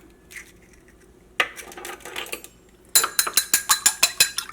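Ingredients for chicken 65 fried rice, with cornflour and egg, are stirred in a bowl: scattered light scrapes, then a steady run of bright, rhythmic clinks of a utensil against the dish, close and clear.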